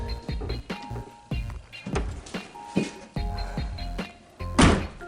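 Trunk lid of a Lexus LS400 with new lift shocks lowering and closing, a series of soft thunks and clunks spread through the clip with one fuller close near the end, heard up close.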